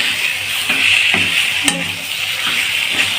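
Young jackfruit curry, salted, is stir-fried in a pan with a steady hissing sizzle, while a few clanks of the spoon scraping the pan stand out over it and no one speaks.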